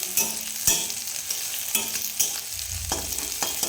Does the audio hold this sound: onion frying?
yes